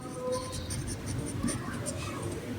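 A pen scratches across paper while math problems on taxable amounts are worked out, giving a series of quick, soft strokes in irregular rhythm close to the microphone over a low background hum.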